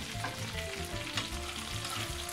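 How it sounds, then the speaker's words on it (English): Pieces of chicken piccata scallopini sautéing in a pan until golden brown, a steady close sizzle and fry that continues evenly throughout. "I'm going to saute these until they're golden brown on the bottom."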